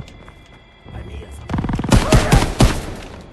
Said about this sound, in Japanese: 怖い怖い怖い、誰か撃ってる